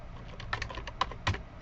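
Fingers type Java code on a computer keyboard, a short burst of about eight crisp, uneven keystrokes at close range in a quiet room, with a couple of heavier taps near the end.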